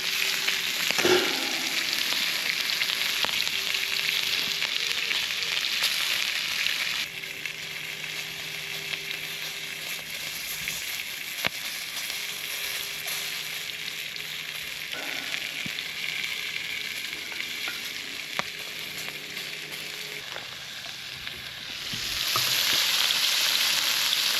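Vegetables sizzle steadily in a pan over a camp stove at a solo teepee motorcycle campsite, a continuous close frying hiss with occasional stirring clicks and a louder burst near the end.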